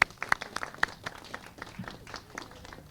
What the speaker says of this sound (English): Let's give our students a round of applause.